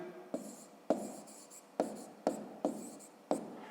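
Pen strokes on paper while writing out a fifth-grade maths answer, close and quiet, in short scratchy bursts with sharp taps about every half second.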